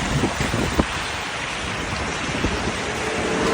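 Morning rain around nine o'clock, heard on the way to a McDonald's, makes a steady, dense wash of noise with a few faint drip-like taps. It is fairly loud and close, with no talking.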